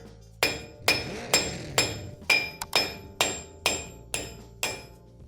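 Ten sharp metallic hammer blows, spaced about half a second apart, drive an old wheel stud out of a car wheel hub, each strike ringing briefly before the next, with no talk.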